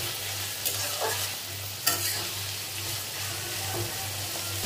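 Onions browning in a pan with cumin and whole garam masala give a steady, close sizzle and crackle, with a couple of sharper stirring scrapes and no talking.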